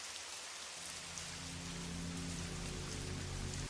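Steady rain falls on a surface throughout, a dense continuous hiss with a low droning hum entering partway through, no voices present.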